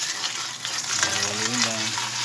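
Lucky Me chicken noodles fry in oil in a pan, giving a steady moderate sizzle with soft stirring and faint tonal sounds partway through.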